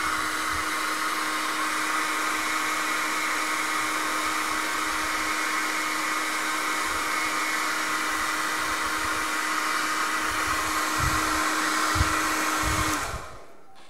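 A heat gun warms a Galaxy Note 3 phone to loosen and separate its front glass. It gives a steady, close blowing roar like a hair dryer that runs for about thirteen seconds before cutting off abruptly.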